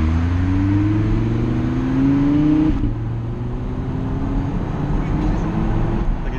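A blacked-out Lamborghini Huracan with an upgraded exhaust drives along, its steady low engine drone shifting pitch as it moves through the gears, heard from inside the car and loud throughout.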